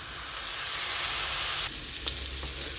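Chopped carrots, beans and cauliflower hit hot oil for upma, giving a loud, steady sizzle throughout, with a brief stirring clatter near the end as the frying settles slightly.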